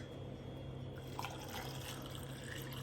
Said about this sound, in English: now we need to add water to this